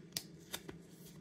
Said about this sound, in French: Hop, la carte de Jinbei. Du coup, je vais la sliver.